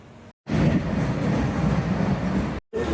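A long-distance train at Thane station heading toward the Konkan region, running three hours late, rolls along with a loud, steady rumble and rattle of rail cars, cut by two brief drops to near silence.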